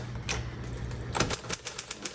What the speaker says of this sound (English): Fantastic typewriter with a lovely, gorgeous margin release font.